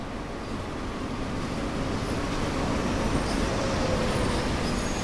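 A train pulls into a station in the Train Sim World game on PlayStation 4, a steady broadband rail and engine rumble that swells gradually as it approaches, with no talk.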